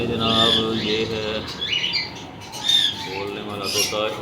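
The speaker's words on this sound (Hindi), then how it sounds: "बोलने वाला तोता।" A talking pet parrot gives loud, harsh squawks and shrill calls in a few bursts, close to the mic, with people chatting around it.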